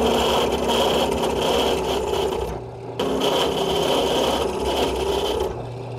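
A power drill grinds continuously through metal, boring half-inch holes in a custom brake pedal arm for a 1936 Chevy truck, briefly easing off near the middle before biting in again for a second long run.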